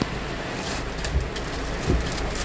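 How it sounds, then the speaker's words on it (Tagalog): Heavy rain pours down during flooding at a house, a dense, steady hiss with a couple of low thuds, loud and close with no voices. "Walang bagyo pero ang lakas ng ulan."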